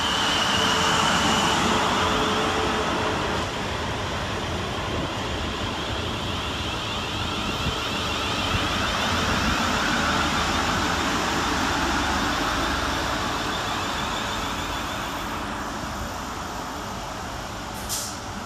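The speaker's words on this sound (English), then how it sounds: "we see the arrival of 450-020, working 1227 South Western Railway service from Southampton Central through to Bournemouth" A South Western Railway class 450 electric unit pulls into New Milton station on a Southampton Central to Bournemouth service, a loud, broad rumble and hiss that holds steady, then eases slightly as the train slows.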